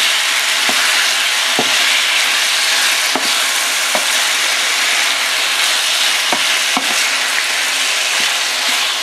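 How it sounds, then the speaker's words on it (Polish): Chicken meat stirred with a spoon in a hot frying pan over high heat, sizzling steadily while the spoon scrapes and knocks the pan in scattered strokes, close and alone. "O, mięsko w międzyczasie sobie można przemieszać"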